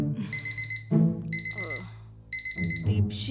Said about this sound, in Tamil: மறுபடியும் அலாரம் அடிக்குது